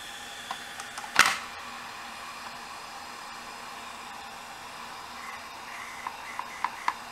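Failing hard disk drive with motor and head faults spins with a steady, faint whine, broken by one sharp clack early on and a few soft ticks toward the end.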